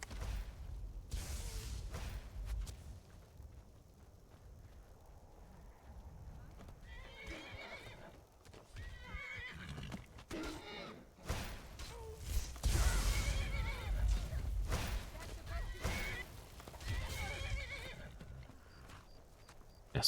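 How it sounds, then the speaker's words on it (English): A horse in the video game Skyrim neighs angrily, its hooves clip-clopping in a gallop. Several whinnies rise over the hoofbeats, and someone talks across much of the clip. "Yes, angry horse."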